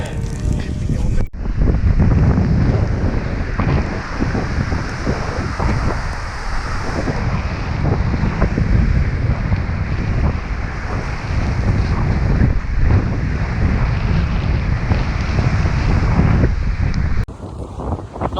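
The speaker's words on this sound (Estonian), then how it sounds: "Väga tuuline on siin mere ääres." Strong wind buffeting the microphone by the sea on a coast, a constant loud roaring rush with gusty swells and faint surf underneath, no clear speech.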